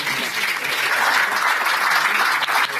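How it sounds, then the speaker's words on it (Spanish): Audience at a book presentation giving sustained applause, many hands clapping steadily and fairly loudly, with a faint voice briefly under the clapping. "les pido un aplauso en este momento que vinieron a acompañarme"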